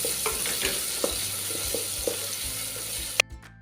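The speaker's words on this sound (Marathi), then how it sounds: "हा कांदा आहे आपल्याला शिजवून घ्यायचा आहे" Chopped onion fries in a pan and is stirred, giving a continuous sizzle with regular soft knocks of the spoon, ending in a sharp clatter and then quiet.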